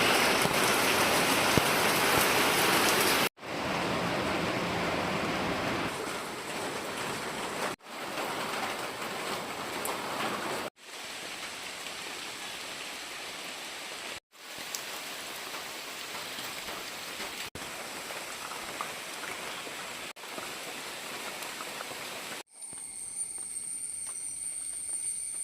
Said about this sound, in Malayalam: രാവിലെ മഴ തുടങ്ങി